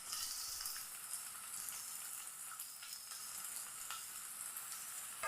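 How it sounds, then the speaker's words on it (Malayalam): Onions and green chillies sauté in a hot pan with a steady, soft, continuous sizzle and occasional faint stirring scrapes. "പച്ചമുളക് നല്ല പോലെ ഒന്ന് വഴറ്റിയെടുക്കാം"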